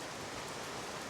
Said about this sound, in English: as you see, it's raining.